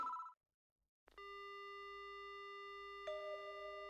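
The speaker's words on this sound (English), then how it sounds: "The only sound I hear is the dial tone." A brief burst of sound cuts to silence, then a steady electronic telephone dial tone hums on continuously in the video game Spirit Hunter: Death Mark, joined by a second tone layer partway through.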